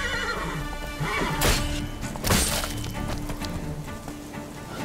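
In The Witcher 3, a horse whinnies loudly over game music, with a couple of sharp cracking hits and hoof clatter mixed in.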